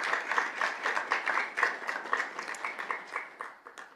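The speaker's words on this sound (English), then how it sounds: "we want to give her a big round of applause" A school district governing board meeting audience claps steadily for a booster club president, a sustained wash of many hands at moderate distance with a gently pulsing rhythm throughout.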